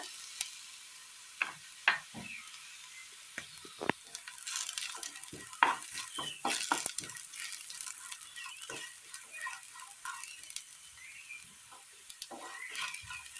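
Crushed dried red chillies fry in hot oil in a pan, giving a quiet sizzle punctuated by sharp crackles and occasional stirring clicks, close but fairly faint and without speech.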